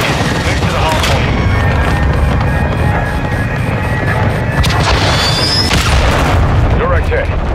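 Artillery fire mission in Call of Duty: Modern Warfare II on a hardpoint match at El Asilo, with heavy continuous rumbling blasts and crashes layered over game radio chatter.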